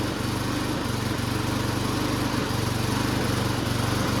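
A small junkyard lawn mower engine idles steadily close by, a constant buzzing drone with a fast rhythmic putter and no voices.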